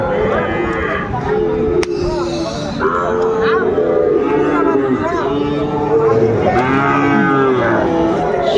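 Sahiwal cattle low with long, drawn-out moos at a busy cattle haat in Ambari, several calls close together under steady crowd chatter and nearby talk.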